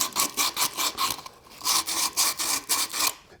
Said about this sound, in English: We do a little bit of sanding on the rough edges here.